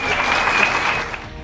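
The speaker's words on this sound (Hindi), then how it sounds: "एक बार जोरदार तालियां चाहूंगा" A brief burst of loud, dense clapping from an audience at a Modicare business seminar, lasting just over a second.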